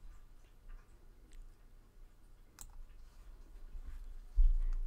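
Computer mouse clicking during drag and drop, with a few faint, sparse clicks and one sharper click over quiet room hum, ending in a low thump.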